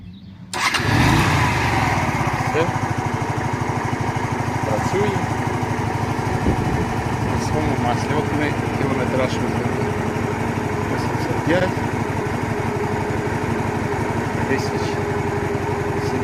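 A Honda Shadow VT 125C motorcycle engine, a 2006 model, starts and settles into a steady, loud idle that runs continuously throughout, with a low rumbling throb.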